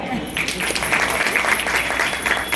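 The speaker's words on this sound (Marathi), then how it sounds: "सगळ्यांनी जोरात टाळ्या वाजल्या पाहिजे एकदा" An audience at a women's respect conference in Latur breaks into applause, a dense, steady patter of many hands clapping together for a couple of seconds.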